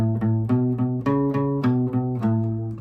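An electric guitar plays a short run of bright, sustained single notes in a cheerful melodic line, clean and close.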